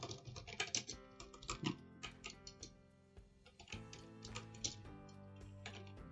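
Keys clack on a computer keyboard in quick, irregular bursts of taps with short pauses, close and fairly quiet, with no talk.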